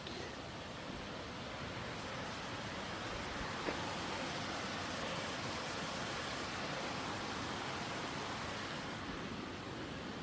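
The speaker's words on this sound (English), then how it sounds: "Yep, Stewart Creek." Stewart Creek runs along the Superior Hiking Trail near a bridge, a steady, broad rush of flowing water, close and unchanging throughout with no voices.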